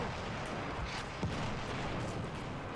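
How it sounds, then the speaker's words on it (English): An artillery barrage in Battlefield 1, heard as distant, muffled booms and low rumbling that blend into a continuous battlefield roar, with no distinct voices. "they have an artillery barrage"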